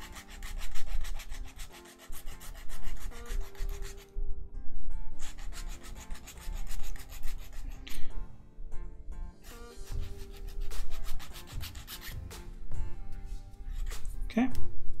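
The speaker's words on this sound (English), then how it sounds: "so I'm going to file this as well." Hand filing of a part for a RepRap 3D printer: repeated rasping strokes, fairly close and steady, recurring in bursts across the span with someone talking over much of it.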